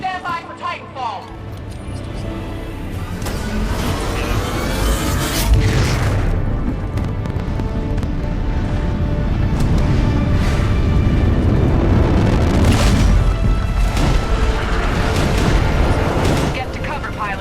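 Deep booming explosions and rumbling impacts from a Titanfall drop in the Titanfall video game, loud and sustained, with layered blasts, gunfire and game voices over them.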